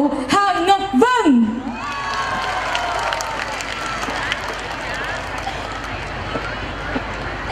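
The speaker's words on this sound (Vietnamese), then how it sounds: "xin mời quý vị hãy cùng dành tặng một tràng pháo tay thật lớn" Applause and cheering from a church parish audience at an anniversary concert, rising right after a brief announcer's voice and holding as a steady, dense wash of clapping and crowd noise.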